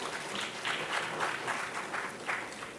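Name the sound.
audience applause for competition winners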